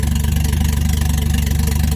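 A Lexus GS300 with a big-turbo 1JZ engine and open downpipe idles right after its first start, giving a steady, loud, rhythmic low pulse with no voices.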